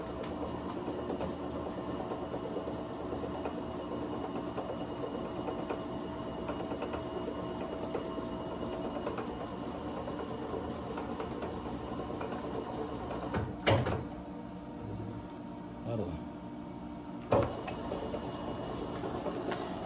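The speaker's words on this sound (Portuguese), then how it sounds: "Agora a mesa para quando o pezinho é acionado" An Adast printing press table mechanism runs with a faint, steady mechanical hum and rapid rhythmic ticking, then stops with a couple of distinct knocks as the foot engages.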